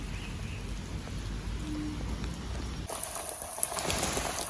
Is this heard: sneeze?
no